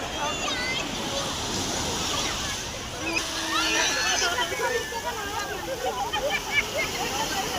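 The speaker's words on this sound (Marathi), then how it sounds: "हे बघा पाणी ओट पण जास्त आलेलं आहे एकदम." Sea water of the incoming tide splashes and sloshes at the shore at night, a moderate continuous wash with rising surges, while people talk in the background.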